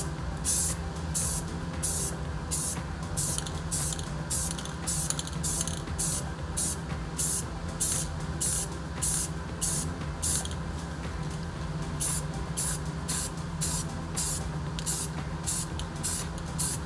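Aerosol spray paint hissing onto brake calipers still mounted on the car, in a long run of short bursts repeated steadily, close and fairly loud, with no talking.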